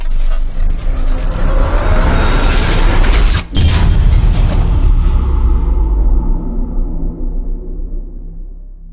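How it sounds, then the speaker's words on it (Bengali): A motorbike engine rumbles loudly and close as riders set out at night for an Adivasi dance event, holding a heavy low drone before fading away. "এই যে গাড়ি নিয়ে বেরোচ্ছে।"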